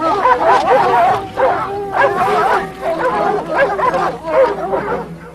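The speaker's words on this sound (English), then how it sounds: "The dog's constant barking is annoying the cat." Several dogs bark and yelp at a jaguar in rapid, overlapping bursts, loud and close, continuing without a break.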